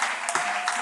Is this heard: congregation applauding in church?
yes